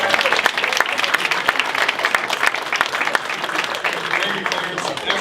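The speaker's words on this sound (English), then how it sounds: "So give him a round of applause." A crowd claps steadily in a hall for an introduced speaker in St. Paul, dense and fairly loud, with a few brief voices mixed in.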